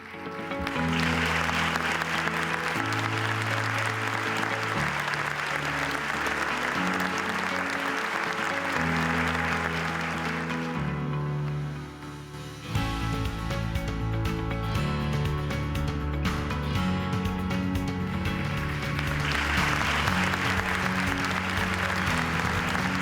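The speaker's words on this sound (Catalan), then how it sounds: "Un fort aplaudiment." Audience applause at a town sports awards gala, sustained clapping under loud stage music that runs throughout, with a brief dip midway before the music and clapping resume.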